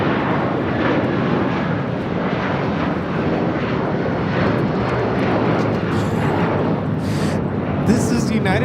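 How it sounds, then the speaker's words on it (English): A United Airlines Boeing 757-300 takes off at Los Angeles International Airport, a loud, sustained engine roar with low rumble filling the whole stretch, while voices talk faintly underneath. "This is United Airlines 1431 taking off to Honolulu on the 757-300."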